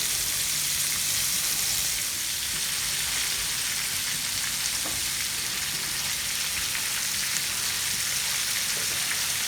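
Beef browning in a pan for stew, a continuous crackling sizzle with scattered pops, steady and close throughout.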